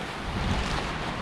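A Connecticut waterfall rushes in a steady, broadband roar, close and loud, with some wind buffeting the microphone and no voices.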